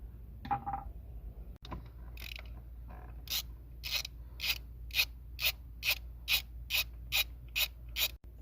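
A ratchet loosens 10mm water pump bolts on a Mk4 Golf 1.8T, starting with a few scattered clicks and scrapes and then settling into a close, regular run of sharp ratcheting bursts, with no talking.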